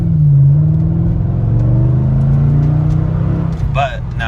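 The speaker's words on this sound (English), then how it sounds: "Now this is what normal half throttle feels like." A Mercedes CLK55 engine runs at a raised, steady half-throttle rev with a deep droning hum, then eases off, while a person speaks over it.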